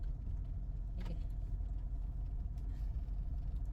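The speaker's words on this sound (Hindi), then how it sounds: "अभी देखो जैसे मैं झटके से छोड़ा तो गाड़ी जो है ना वो भागने को आती है" A Mahindra XUV500 SUV surges forward after a sharp clutch release, its engine a steady low rumble heard from inside the cabin, continuous and fairly faint with no voices.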